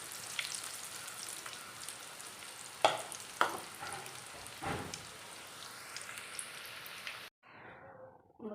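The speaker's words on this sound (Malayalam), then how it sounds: "എന്നിട്ടാണ് ഈ എണ്ണയ്ക്കകത്ത് നന്നായിട്ട് പൊരിച്ചെടുക്കാൻ" Battered cauliflower deep-frying in hot oil, a steady broad sizzle with a few sharp spatters and stirring clinks, then it cuts off abruptly near the end to a quiet, softer bubbling.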